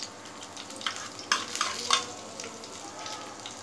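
Dried red chillies dropped into a tablespoon of hot oil in a pan, giving a soft, steady sizzle with a few brief crackling bursts, close and fairly quiet, with no voices.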